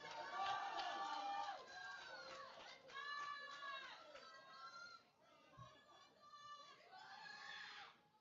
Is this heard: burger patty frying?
no